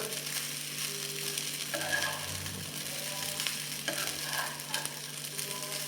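Fried paneer being stirred into paneer pulao in a hot pan, with a steady sizzle under scraping and stirring of the rice, close and continuous with no talking.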